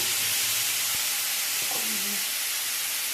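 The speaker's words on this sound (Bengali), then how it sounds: "আমি এখানে তেলের উপরে মশলাটা ছেড়ে দিলাম" A ginger, garlic and chili spice paste hits hot oil for Bengali aloo phulkopi, giving a loud, steady, close-up sizzle and hiss with a few faint clinks and no talk.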